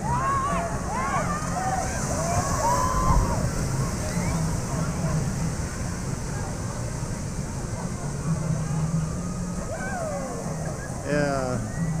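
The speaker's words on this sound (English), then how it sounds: "Here's the waves at Typhoon Lagoon." Waves surge in the wave pool at Typhoon Lagoon water park, a steady broad wash of rushing water with a crowd of voices and shouts mixed in throughout.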